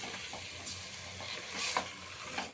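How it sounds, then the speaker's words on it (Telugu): Cauliflower, tomatoes and other vegetables for a vegetable biryani stir-fry over high heat, a close sizzle broken by scraping and clinking as a utensil stirs the pan in short bursts. "ఇప్పుడు ఇవన్నీ వేసేద్దాం మళ్ళీ స్టవ్ని హైలోనే ఉంచేసుకొని ఒక మూడు నిమిషాల పాటు మనం కలిపిస్తున్నాం"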